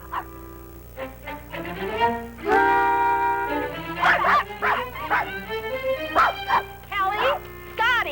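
Small dogs barking and yipping in a Western setting, sharp repeated yaps and whimpers coming in bursts close by, mixed with voices talking over them.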